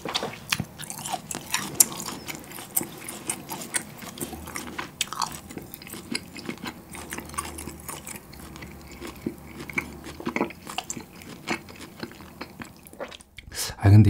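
A large steak is bitten and chewed up close, with the meat tearing apart. Moist crunching and chewing noises run continuously and loudly, with no speech over them.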